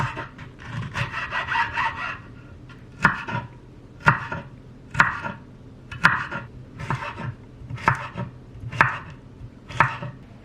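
A knife chops steadily on a board, about one sharp stroke per second, close and clear with no talking.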